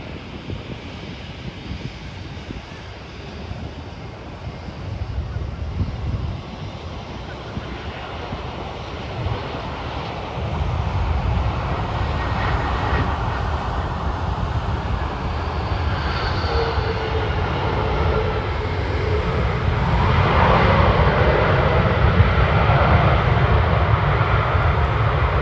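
A Frontier Airlines airliner lands on runway 12 right at Minneapolis, its engine roar broad and steady, swelling gradually closer and louder toward the end with wind buffeting the microphone.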